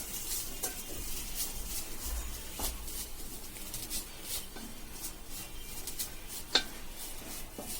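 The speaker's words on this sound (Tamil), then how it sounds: "நெய் ஊற்றின உடனே தேங்காய் ஆட் பண்ணுறேன். தேங்காயில் ஈரப்பதம் போகிற வரையும் வதக்குறேங்க." Grated coconut sautés in ghee in a pan, giving a soft, steady sizzle broken by scattered scraping stirs and a sharp clink near the end, all fairly quiet and close.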